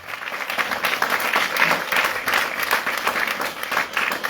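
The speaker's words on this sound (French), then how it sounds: "Acclame le Seigneur Jésus-Christ" A church congregation at a spiritual combat service in N'Douba N'Guessanbo, Côte d'Ivoire, breaks into dense, sustained applause that carries on for several seconds, with a faint voice underneath.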